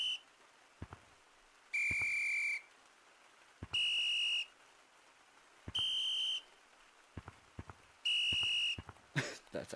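A shrill whistle in the video game Gorilla Tag blows four times in evenly spaced blasts, each about a second long, over a faint background with scattered clicks.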